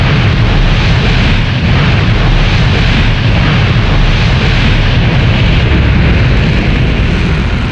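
A MiG-19 fighter on a mobile launch site is fired into the sky by a powder booster rocket, producing a loud, continuous roaring blast that holds steady throughout with no voices.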